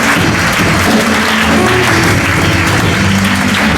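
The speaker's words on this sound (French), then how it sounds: "Acclame pour Jésus." A church congregation at a gathering breaks into loud, dense, sustained applause that fills the hall without letup.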